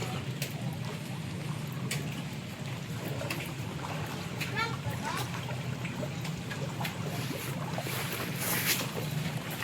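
A boat moves through floodwater with a low, steady hum and light watery trickles, wind buffeting the microphone, while faint voices come and go.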